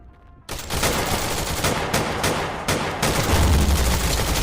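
Rapid, loud pistol gunfire in the VR shooter Tactical Assault VR, a dense volley of sharp cracks running almost continuously after a brief quiet start, with a deeper thump near the end.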